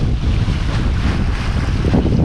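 A sailboat motors into a headwind through the Swedish archipelago, giving a loud, constant rush of wind buffeting the microphone over a low engine and water rumble, with no voice.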